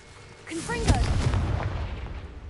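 An explosive Confringo spell blast in the Hogwarts Legacy video game, a rising whoosh that bursts into a deep rumbling boom and then slowly fades, with a voice briefly heard before it.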